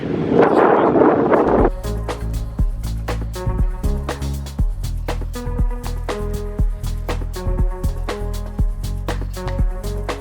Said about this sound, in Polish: Strasznie wieje, mam nadzieję, że coś będzie słychać.